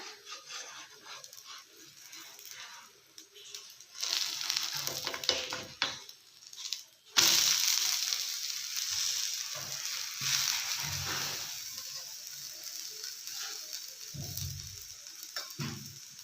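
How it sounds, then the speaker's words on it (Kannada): Besan dosa sizzling on a hot pan after being flipped, a soft frying hiss that swells and fades, with scraping spatula sounds and occasional clinks. "ಇವಾಗ ದೋಸೆ ತಿರುವಿ ಹಾಕೊಳ್ಳೋಣ."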